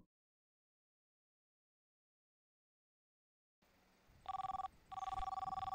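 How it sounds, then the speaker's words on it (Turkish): A telephone rings in the construction and demolition game Demolish & Build 2018, with two loud electronic ring bursts after a second of quiet and then a low background hum. "Yine bir telefon."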